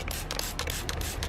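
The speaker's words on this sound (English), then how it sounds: "let's spray it on and see. So it comes out like a spray, good fine spray." Several quick hissing bursts of a trigger spray bottle spraying a fine mist of car prewash, close and fairly quiet, in a rapid uneven rhythm.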